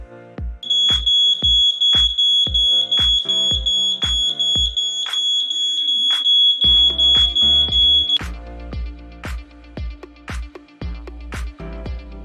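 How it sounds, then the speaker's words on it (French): Smoke detector set off by pressing its central test button, piercing high beeps repeating rapidly and loudly for several seconds over a rhythmic backing pulse, then stopping as the pulse carries on. "appuyer sur le bouton qui se trouve au centre de votre détecteur pour l'activer"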